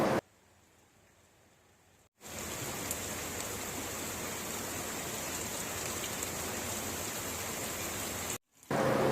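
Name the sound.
monsoon rain in Jamshedpur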